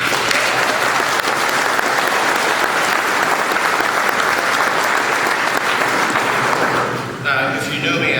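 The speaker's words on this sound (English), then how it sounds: "So give yourself all a hand of applause." Loud, sustained applause from a crowd of search and rescue personnel at an opening speech for a Hume Lake exercise, dense clapping that continues for about seven seconds before thinning out near the end.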